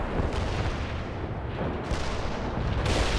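Artillery strike in the video game World in Conflict, heard as a dense, continuous rumble of shelling and booms with sharp bursts throughout, loud and unbroken with no talk.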